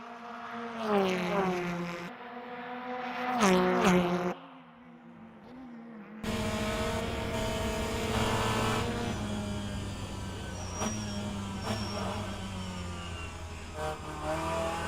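BMW race cars in a BTCC series race on the World Wide Technology Raceway road course, engines revving up and down through gear changes, one car surging close then another droning steadily, loud and continuous.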